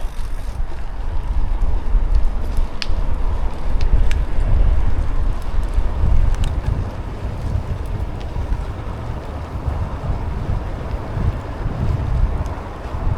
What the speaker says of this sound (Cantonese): 有少少大風。